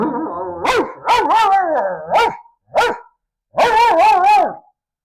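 A storyteller at a house concert imitates a wolf with his voice, a string of loud, close growling barks and yelping howls in short bursts separated by pauses.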